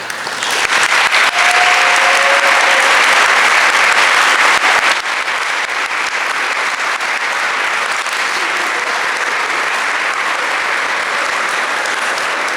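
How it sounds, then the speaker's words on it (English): Alumni awards ceremony guests give a final round of applause for outstanding alumni, a loud, full crowd ovation that is strongest at first, then eases slightly and carries on steadily to the end. "one more recognition of our outstanding alumni with a final round of applause"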